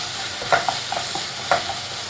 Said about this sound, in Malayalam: നന്നായിട്ടൊന്ന് ടൊമാറ്റോ ഒക്കെ വഴണ്ട് വരട്ടെ